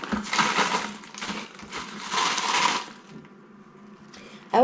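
Potting soil mixture scooped into a plant pot for repotting, heard as close, gritty rustling and scraping in two short bursts, followed by a quieter pause and a sharp clunk at the end.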